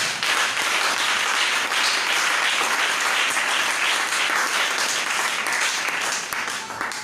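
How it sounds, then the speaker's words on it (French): A congregation at a divine healing seminar bursts into dense, loud applause that roars continuously for several seconds before easing slightly at the end. "Si tu m'as compris, acclame le Seigneur."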